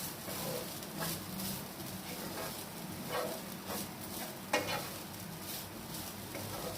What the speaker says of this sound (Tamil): 2 கப் போட்டு லைட்டாக வதக்கிக்குவோம்.